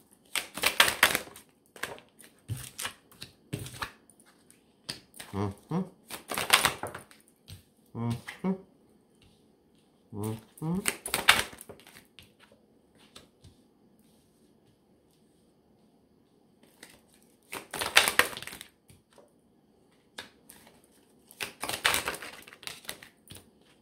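Oracle cards shuffled and dealt onto a table, repeated bursts of crisp riffling and flicking snaps separated by quiet pauses, close and fairly loud, with little else around them.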